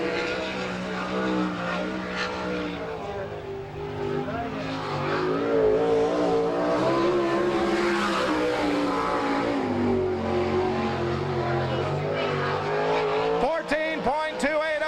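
Race car at an NCRA All Stars speedway event in Salina, Kansas, driven by Mike Goodman, runs a qualifying lap, its engine a steady loud roar with shifting pitch throughout, under continuous talk from an announcer.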